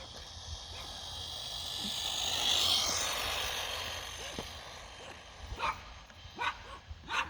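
A remote-control Tamiya M03 Mini Cooper car whooshes past outdoors during a speed run, then dogs bark at it in a few short, sharp bursts a little way off.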